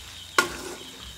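A spoon scrapes once through chicken dopiaza masala frying with cumin powder in the pan, a sharp clatter followed by a soft, fading sizzle that lingers quietly.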